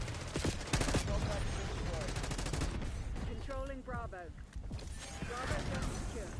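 Rapid submachine-gun bursts from Call of Duty Black Ops 6 rattle in dense, repeated volleys, loud and close, with a voice talking over part of the fire.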